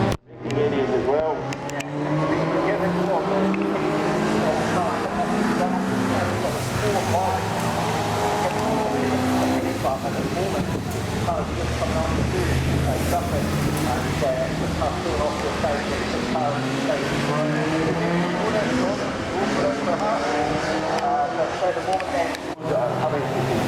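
A Ford Escort RS Cosworth race car races at Knockhill in wet conditions, its engine droning loud and continuous from inside the cabin, with shifting revs over a broad roar.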